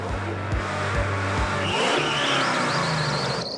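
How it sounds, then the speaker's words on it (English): A muscle car launches on ice indoors: rhythmic engine pulses give way to a rising, screaming rev as the wheels spin and squeal, loud and close, with the pitch climbing steadily as it accelerates. "I was about to drive a muscle car on ice, as fast as I could, towards a wall."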